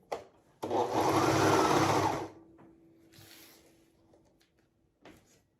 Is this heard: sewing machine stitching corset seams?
yes